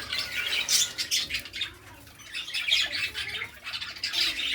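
A hand-fed baby parrot chick squawks in repeated harsh, raspy bursts, close and fairly loud, with brief gaps between calls and no voices.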